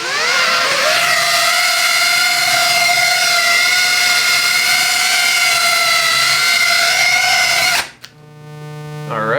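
Motors of a Cinelog 35 cinematic FPV drone whine in a steady, loud, high-pitched tone for nearly eight seconds, then spool down and cut off abruptly.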